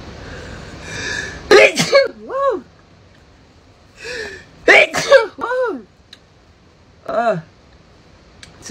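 Several human sneezes in a row, each a sharp loud burst preceded by gasping inhalations, spaced a few seconds apart, close to the microphone in a quiet room.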